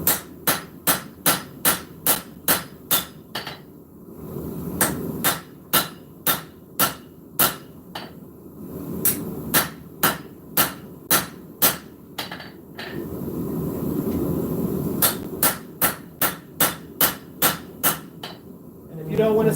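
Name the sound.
hammering hot steel while forging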